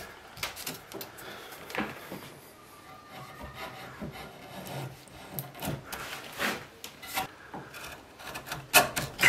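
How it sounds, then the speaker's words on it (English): Hand trimming of wood for a corner bookshelf, paring waste back to marked cut lines: close, irregular rasping and scraping strokes with short pauses between them, no talking. "Trimming it back to the mark lines, the cut lines that I put in."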